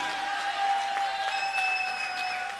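An audience at a Punjabi poetry gathering claps steadily for a poet coming up to recite, a dense, even patter of applause that lasts throughout with a faint tonal hum behind it.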